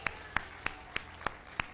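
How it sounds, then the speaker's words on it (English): A church congregation claps in unison, six sharp, evenly spaced hand claps at a brisk steady beat, fairly close and clear with no voices over them. "Give the Lord a hand clap and a shout."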